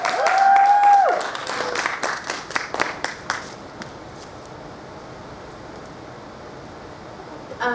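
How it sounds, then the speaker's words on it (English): A business meeting audience applauds a speaker with a burst of crisp, close claps and a brief whoop, then the clapping thins and fades to a quiet room. "give her a round of applause, guys"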